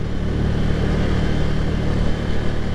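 A Ducati Cafe Racer motorcycle is ridden on a mountain road, its engine droning loud and steady alongside heavy wind rush.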